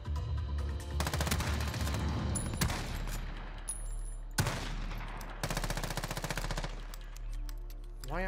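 Automatic gunfire in the video game Warzone comes in rapid bursts, loud and close, with a few single shots and short lulls between them and no talking over it.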